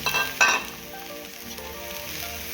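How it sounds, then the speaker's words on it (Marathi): Bitter gourd pieces hitting hot oil in a pan for a cashew and bitter gourd stir-fry, with a loud sizzle burst at the start settling into a steady, softer frying hiss, no talking. "परतून झालं आहे आता कारली टाकूया"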